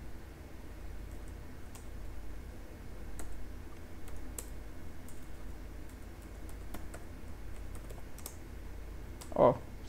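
Typing on a computer keyboard: sparse, soft key clicks scattered over a quiet room hiss, with one slightly louder tap near the end.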